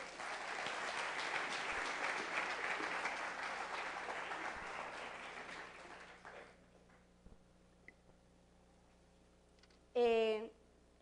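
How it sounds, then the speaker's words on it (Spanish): A conference audience applauds steadily for about six seconds before the clapping fades into quiet room tone, followed by a few isolated clicks and a brief sound near the end. "Creo que mi Don Olimpo se merece un aplauso."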